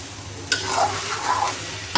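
Pulao rice being stirred and dry-fried in a pan, with a few scraping strokes of the spoon over a soft, steady sizzle, close and fairly quiet, no voices.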